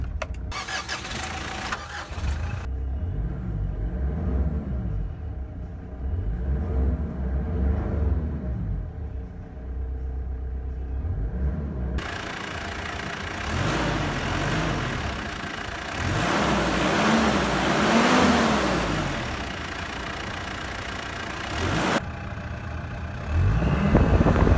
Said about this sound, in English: Now let us start up the engine.